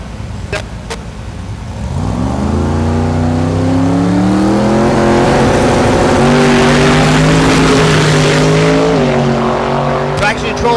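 A drag racing car launches on a 7-second pass at Thunder Valley in Noble, Oklahoma, its engine roaring up through stepped gear changes, loud and close, with an announcer talking over it.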